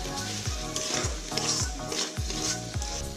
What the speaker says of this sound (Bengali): এবার আমি এই টমেটো কুচিগুলো দিয়ে দিচ্ছি।